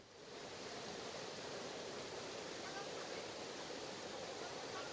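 Fast floodwater rushing through an overflowing drain in Ramnagar, a steady loud broadband roar of churning water that holds constant throughout with no break.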